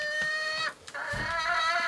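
Chickens clucking and calling inside a winter barn shed in a rural Ural village, with bright, repeated squawks close by that briefly pause and then resume, with no talking.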